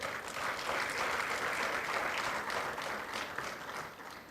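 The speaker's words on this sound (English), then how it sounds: "applaud him" An audience at a youth forum panel discussion on HIV, AIDS and hepatitis applauds steadily, a dense, even wash of clapping that holds for about four seconds without fading.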